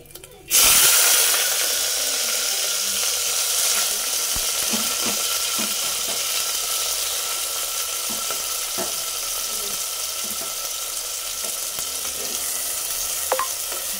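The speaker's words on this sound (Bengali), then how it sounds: "এই যে আমার পেঁয়াজ ভাজা হয়ে গেল" Onions fry in a pan for a mutton dish, with a loud, continuous sizzle that starts suddenly and holds steady. Scattered scrapes of stirring come through, and a voice speaks briefly.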